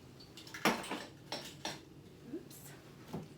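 Kitchen supplies shifted and set down on a counter while cooking, a handful of irregular clinks and clatters of dishes and utensils, close and moderately loud with quiet gaps between.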